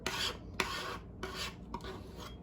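Acrylic paint being mixed on a palette, soft scraping rasps in a few quick strokes with short pauses between, close and faint.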